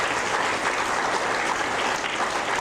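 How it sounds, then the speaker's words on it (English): Sustained, even applause from an audience of students and parents at a school awards ceremony honouring sixth graders, a dense wash of clapping with no gaps or voices. "and I applaud you"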